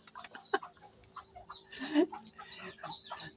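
Chickens cluck repeatedly in short, uneven calls at close to middle distance, with one louder burst of clucking partway through over a steady outdoor background.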